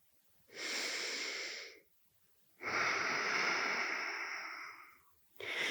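Deep, slow breaths during vinyasa yoga, close and airy: a long exhale, a pause of silence, a second longer breath, then another beginning at the end.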